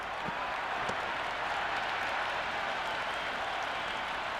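Steady stadium crowd applause and cheering after a boundary in a Cricket 26 Big Bash match between Sydney Thunder and Brisbane Heat, a continuous wash of clapping at moderate level.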